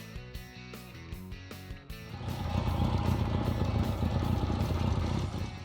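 A 1972–1975 Kawasaki Z1 motorcycle, the early Japanese superbike, gives a brief lighter stuttering sound before its engine swells into a loud, steady, dense rumble that holds close and continuous to the end.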